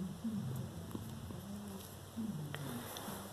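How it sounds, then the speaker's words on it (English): A cat purring with a low, steady rumble that pulses in slow repeated breaths, close but soft under faint room noise, with no talking. "she's purring very loudly."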